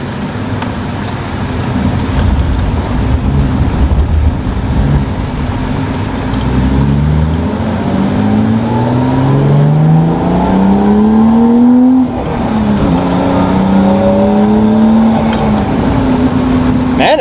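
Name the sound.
turbocharged JDM drift car engine accelerating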